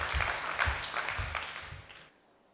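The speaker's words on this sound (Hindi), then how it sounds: "हम सभी ताली बजा करके एक बार पुनः भाई साहब का धन्यवाद आभार व्यक्त करते हैं" Audience at a jurists' conference applauding in a hall, a dense burst of clapping that rolls on for about two seconds before fading into silence.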